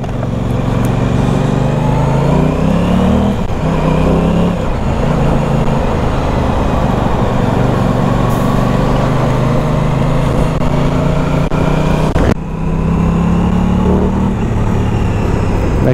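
An Aprilia Tuono 660 motorcycle engine runs loud and close while riding on the road, revving up and down through gear changes with a constant roar and no speech.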